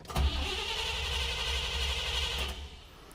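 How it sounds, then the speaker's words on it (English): A car engine fitted with Sniper EFI fuel injection and a CD box ignition cranks and catches, a steady close running drone holding for a couple of seconds before it eases down near the end. "When we crank it, it should show RPM if everything was done properly."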